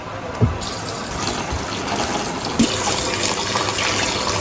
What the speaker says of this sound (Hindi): Open cold water on it.